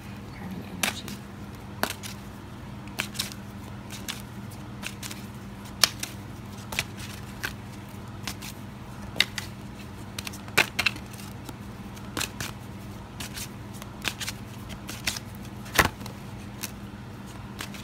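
Tarot cards being shuffled, with quick crisp riffles and snaps repeating about once a second over a low steady hum, close and fairly quiet, with no talking.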